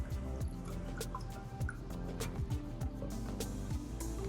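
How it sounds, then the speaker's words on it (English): Water poured from a spoon into salt in a glass for a kitchen density experiment, making repeated small wet drips and plops close by, with no talking. "Let's put the water into the salt and stir it with the spoon."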